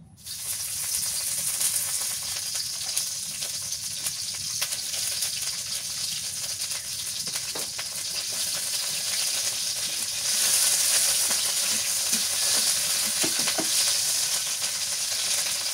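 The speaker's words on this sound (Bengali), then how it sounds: "এখন তেল পেঁয়াজ ভেজে নিই।" Onions fry in hot oil in a pan in a Bengali home kitchen, with a continuous close sizzle and crackle that grows slightly louder partway through and no talking.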